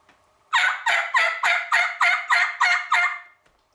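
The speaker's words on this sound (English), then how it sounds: "get him a gobble, he's coming in closer, in closer." A wild turkey gobbles in a rapid series of eight loud, evenly spaced bursts in quiet surroundings, each a rattling, warbling gobble close at hand.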